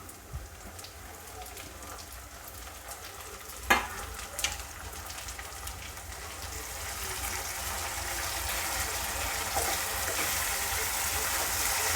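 Tomatoes are added to onions frying in a pan for mutton kheema masala. A steady sizzle builds gradually louder, broken by a couple of sharp clatters and light stirring near the start.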